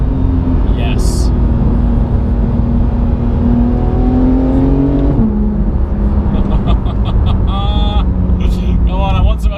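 A Porsche 991 GT3 with a new Sharkwerks exhaust drives along, its engine droning steadily, then shifting pitch as it revs and changes gear, loud and close, with faint chirps toward the end.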